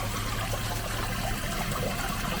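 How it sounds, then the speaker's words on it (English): Cold natural spring water in Lee County, Virginia, flows in a steady, close trickle and splash that continues without a break and has no voices over it. "this water is cold."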